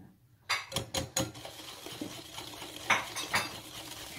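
A spoon scrapes and clinks against a bowl while butter is stirred into brownie batter, with a few sharp knocks early on and a looser stirring rhythm after. The sound is close but quiet.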